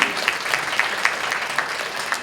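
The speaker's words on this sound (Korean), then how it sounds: "다시 한번 수고해주신 민희준 국제협력 담당관님께 따뜻한 박수 보내주시기 바랍니다." An audience applauding in a hotel conference hall after a presentation, steady clapping of a crowd that holds evenly throughout, with a few sharper claps standing out.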